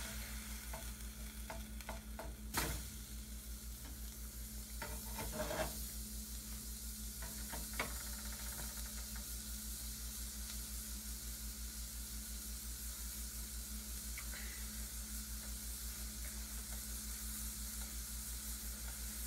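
Burger patties for a spicy double cheeseburger fry in a pan on a stovetop, giving a steady close sizzle with a low hum beneath and a few sharp clacks of a utensil against the pan.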